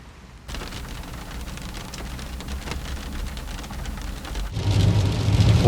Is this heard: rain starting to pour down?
yes